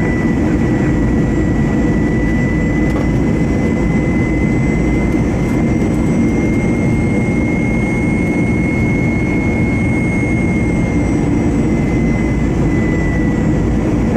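A Delta Air Lines Airbus A321-211 on landing, its jet engines roaring loudly in reverse thrust, a steady, heavy, continuous rumble with a high whine on top, no voices.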